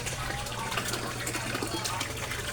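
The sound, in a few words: water splashing from koi pond waterfall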